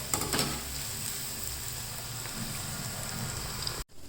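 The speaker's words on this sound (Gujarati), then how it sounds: "બીજો ઘાણો છે ને એ બીજી વખત ફ્રાય થાય છે" Second batch of manchurian balls frying in hot oil for a second, crisping fry, a steady close sizzle and crackle with no talk, cutting off briefly near the end.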